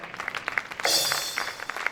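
Audience at a pharmaceutical event in a hotel hall clapping, with scattered individual claps that swell into a brief burst of applause.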